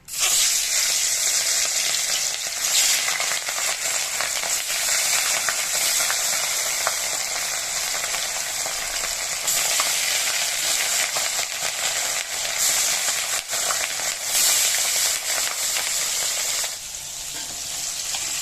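Fish pieces frying in hot mustard oil for a light Bengali fish curry, a loud, dense, continuous sizzle and crackle up close that carries on without pause and eases slightly near the end.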